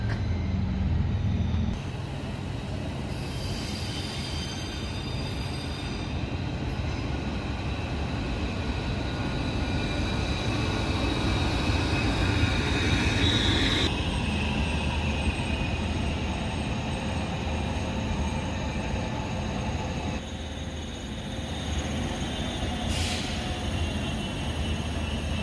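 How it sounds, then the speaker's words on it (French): A BLS train pulls into a station in Switzerland with a steady rumble of wheels on rails, brief high squeals and hissing, heard loud and close throughout with no talking. "voici d'ailleurs une rame du BLS qui arrive de je ne sais pas d'où"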